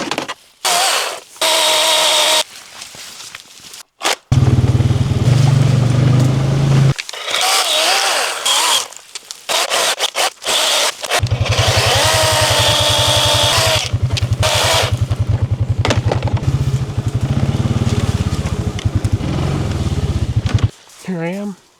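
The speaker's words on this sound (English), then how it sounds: "And that's why I have the little chainsaw" A small chainsaw buzzes in bursts, starting and stopping several times, close by, with stretches of people talking in between, at a bear bait site in Alaska.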